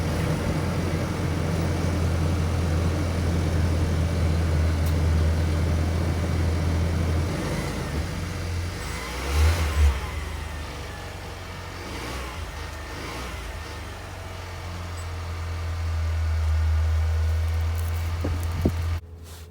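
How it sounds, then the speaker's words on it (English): A 2020 Ford Ranger pickup truck's exhaust rumbles outdoors, holding a low, steady idle. It gives one sharp blip of revs midway, dips quieter, then settles back into the same deep drone. "we're gonna go outside and have a sound of the exhaust."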